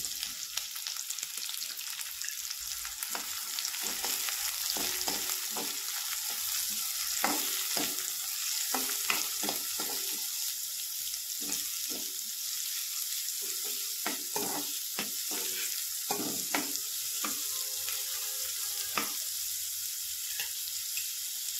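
Garlic and onion fry in a pan with a steady, bright sizzle throughout, broken by frequent clicks and scrapes of stirring, no voices.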